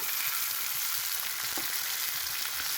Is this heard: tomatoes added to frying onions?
yes